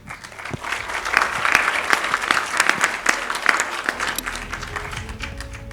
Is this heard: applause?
yes